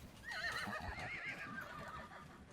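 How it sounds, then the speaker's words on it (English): Horses in a herd of mostly unhandled animals neigh and whinny, with a long shrill call over a low rumble of hooves and movement nearby. "when we're dealing with a herd of horses like this that are mostly unhandled"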